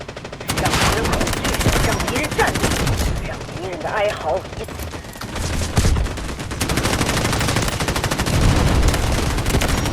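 Ci19 assault rifle firing in the Garena Delta Force video game, loud dense bursts of rapid automatic shots that run almost continuously with brief gaps.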